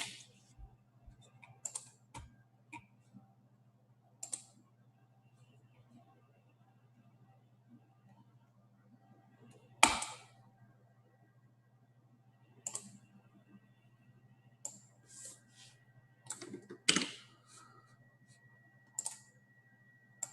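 Sparse keystrokes of keyboard shortcuts typed on a Mac computer keyboard: scattered single clicks and short clustered bursts, close and crisp, over a low steady hum.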